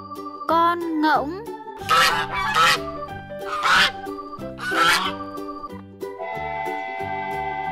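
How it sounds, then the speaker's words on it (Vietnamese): Goose honks heard as a few short, loud, nasal calls in quick bursts over a backing melody, presented among farm animals in a children's naming lesson. "Con ngỗng."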